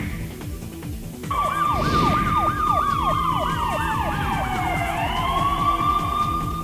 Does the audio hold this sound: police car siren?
yes